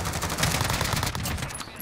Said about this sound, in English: this AK rips through people's face holes